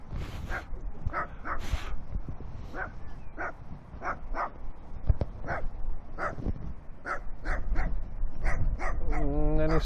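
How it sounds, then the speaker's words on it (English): A dog in a park in Italy barks repeatedly on a late afternoon, sharp barks spaced roughly every half second to second over steady outdoor background noise, fairly close. "It's late afternoon, and he's still barking."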